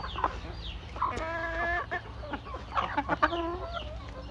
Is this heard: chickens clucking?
yes